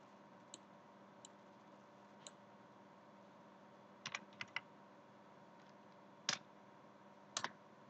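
Typing on a computer keyboard while drawing in AutoCAD: scattered single key clicks and short bursts of taps, quiet and close, with long pauses between them and no talk.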